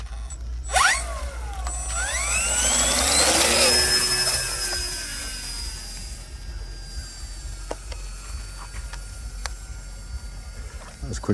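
An RC model F4U Corsair warbird takes off, its electric motor whining up in a rising, Doppler-shifting pitch that peaks loudly within the first few seconds, then fades as the plane climbs away, leaving faint wind and ambient noise.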